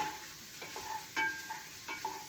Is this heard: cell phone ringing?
no